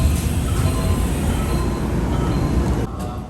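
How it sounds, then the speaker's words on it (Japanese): A Nankai train rolls into platform 1 at Kansai Airport station with a dense, steady rumble of wheels and car noise. It eases slightly near the end. "電車は1番乗り場に入線。"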